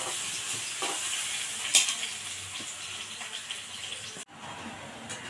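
Three bananas cooking in ghee in a pan, a quiet, soft sizzle with occasional stirring scrapes, faint and steady.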